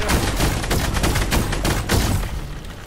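Rapid gunfire from a Fortnite match, with dense overlapping bursts of shots and booms filling the whole stretch, loud and continuous.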